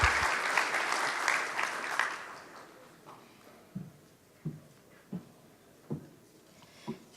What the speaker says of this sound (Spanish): un aplauso para el ministro